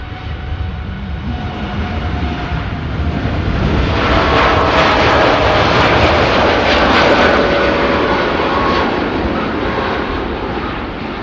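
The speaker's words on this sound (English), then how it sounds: "Landing gear coming up there on the TUI Dreamliner, only heading down to Menorca." A TUI Dreamliner jet takes off bound for Menorca, its engines a loud, sustained roar that builds and holds before easing slightly as the landing gear retracts, with no talking.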